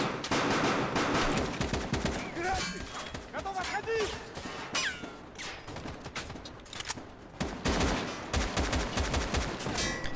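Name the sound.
gunfire in a firefight, from the video game Escape From Tarkov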